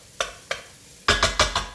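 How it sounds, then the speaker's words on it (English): Aubergines clatter and sizzle in a frying pan, two sharp stirs followed by a denser burst of crackling scrapes and spattering, close by and fairly loud. "Sizzle, sizzle."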